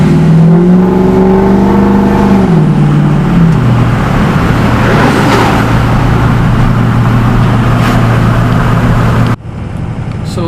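A Ford pickup truck's 6.0 Powerstroke diesel engine winds up through a gear change, then settles into a loud steady drone with road noise, cutting off abruptly near the end.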